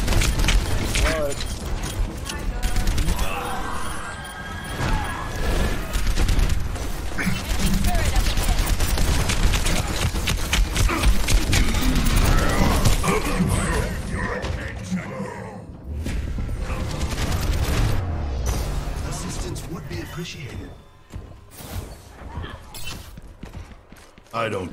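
An enemy turret firing in the video game Overwatch, with a dense, loud clatter of rapid shots and mechanical clanks mixed with other battle noise, easing off toward the end.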